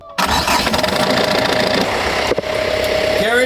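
A boat engine cranks and catches, then settles into a loud, steady idle with a constant drone and mechanical clatter, briefly stuttering near the end before running on.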